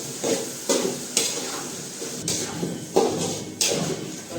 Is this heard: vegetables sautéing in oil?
yes